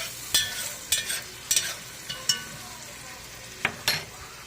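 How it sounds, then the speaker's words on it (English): Chopped leeks and garlic stirred in a cooking pot, giving a few soft scraping, sizzling swishes at irregular intervals, close and fairly quiet with no talk. "And swish all that up and let it start marinating."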